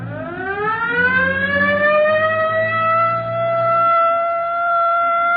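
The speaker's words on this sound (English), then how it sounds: "Better hit the siren." A police car siren in a radio drama rises into a loud, sustained wail and holds steady, heard close and on its own.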